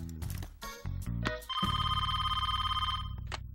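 A telephone bell rings in a loud, sustained trill after a few brief clattering sounds, ringing steadily and close by.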